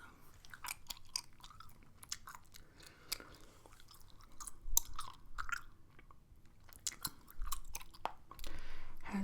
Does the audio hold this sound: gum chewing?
yes